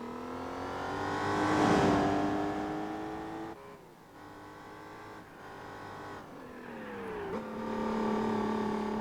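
A 5.9-litre naturally aspirated V12 car engine in Gran Turismo 4 revs and climbs steadily through the gears, with a couple of shift dips and pitch drops, loud and continuous with no talk over it.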